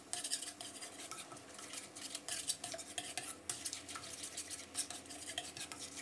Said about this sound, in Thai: ตั้งกระทะใช้ไฟอ่อนนะครับนำน้ำซอสของเรานะครับมาผัดให้แตกกลิ่นหอมและมีความเข้มข้นเลยนะครับ